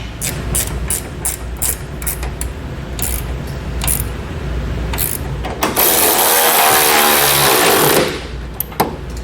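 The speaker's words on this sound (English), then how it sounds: "I like to tighten down the brackets to the vehicle first" A power tool runs in short, loud bursts, then a sustained whir, as nerf bar brackets are tightened onto a 2021 GMC Canyon pickup.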